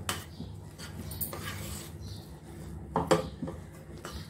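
A spoon stirs and scrapes cooked flour dough in a metal pot over low heat, with soft scraping and a few sharp clinks of utensil against the pot, close and without talk.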